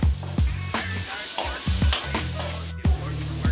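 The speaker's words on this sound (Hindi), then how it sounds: "जब ये हल्का कलर चेंज करने लगे लहसुन अदरक, तब तक इसको हल्का हल्का फ्राई करते रहना है।" Garlic and ginger stir-frying in a pan, a close sizzle broken by a regular series of sharp spatula scrapes and knocks against the pan, about eight strokes over a few seconds.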